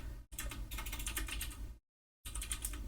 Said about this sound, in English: Sorry about my lousy typing.